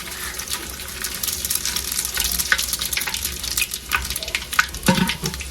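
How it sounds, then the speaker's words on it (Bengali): Dried red chilies, bay leaves and five-spice seeds crackle and sizzle in hot oil for a Bengali vegetable panchan, a broad steady fry with scattered sharp pops and a few stirring knocks, no voices. "তেলের উপর দিয়ে দেব শুকনো মরিচ, তেজপাতা, সাথে দিব পাঁচফোড়ন।"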